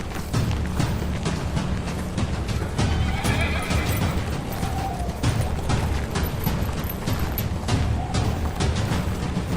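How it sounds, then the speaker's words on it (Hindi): A horse whinnies over the clatter of hooves in a historical battle drama as soldiers prepare for war, loud and close amid dense music and commotion. "घोड़ा लेकर आओ।"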